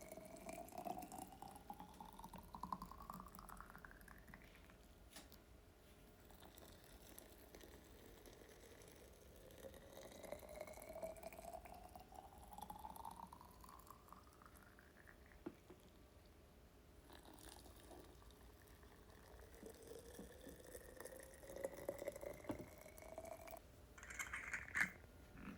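Boiled water poured from up close into glass jars of quince and pomegranate compote, several faint pours, each rising in pitch as the jar fills, with soft clinks between them.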